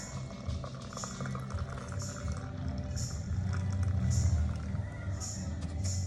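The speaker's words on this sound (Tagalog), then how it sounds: "Bubuhos mo na yung mainit na tubig" Hot water is poured slowly into a cup of coffee, giving a soft continuous liquid stream with some background noise and a few faint voices.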